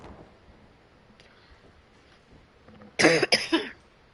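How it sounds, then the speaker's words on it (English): A sudden burst of coughing, two or three harsh close coughs in quick succession after a few seconds of quiet room noise. "Sorry, I had to cough."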